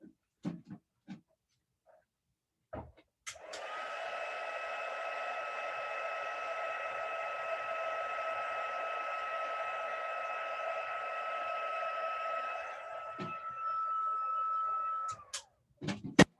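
A heat embossing tool blows hot air over a stamped card, a steady whirring hum with a fan-like tone that runs for about twelve seconds and then cuts off, with a few faint handling knocks before and after.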